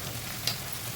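Tomato frying in oil in a pan gives a steady, soft sizzle close by, with one brief stir or pop near the middle and no voices.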